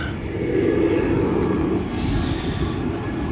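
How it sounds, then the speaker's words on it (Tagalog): Airplane passing overhead near a cemetery in Pateros, a loud steady broadband roar that fills the whole span without speech. "Sorry, maingay lang aeroplano"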